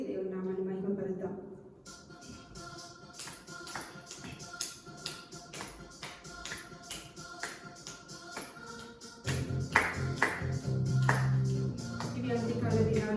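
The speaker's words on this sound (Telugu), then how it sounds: "అందరూ కూడా చప్పట్లు కొట్టి దేవుని నామాన్ని మహిమపరుద్దాం." A church congregation claps in time with a sung worship song at a Sunday service, giving sharp rhythmic claps over voices and music that swell louder near the end.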